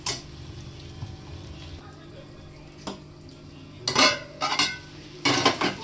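A coarse ground peanut mixture is added to potatoes in a pan and stirred in for a Marathi batata bhaji. After a quiet stretch, a spoon clanks and scrapes loudly against the metal pan in several close bursts.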